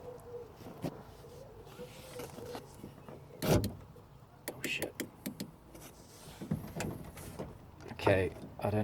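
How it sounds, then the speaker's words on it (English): A Mk1 Ford Focus power window motor tries to wind a jammed window, giving faint whirring broken by several sharp clunks and rattling bursts inside the door, close by and moderately loud. "I'm going to use the motor to try and wind the window and see if it just works by itself now"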